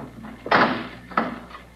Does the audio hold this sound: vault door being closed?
yes